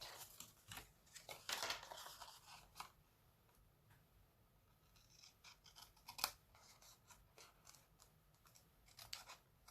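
Scissors cut paper for a mini Easter basket in a series of close, quiet snips and crisp slicing strokes, with brief rustling of the paper between cuts and no talking.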